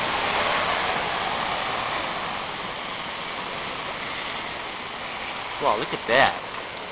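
Heavy rain and wind from Hurricane Irene in Hamden, Connecticut roar as a steady, dense wash of noise throughout, loud and close, with a voice speaking briefly near the end.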